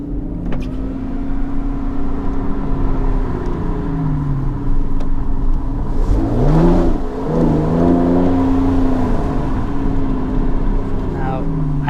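Aston Martin DB11 engine running steadily with a deep rumble, then revving up and down through shifts midway before settling again, loud and close, with no talking.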